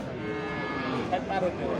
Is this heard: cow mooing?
yes